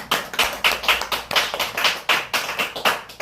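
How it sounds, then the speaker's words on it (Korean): Congregation in a Korean church service clapping in unison, sharp rhythmic claps about four per second, close and crisp with a decaying ring after each. "여호와님께 몸의 박수."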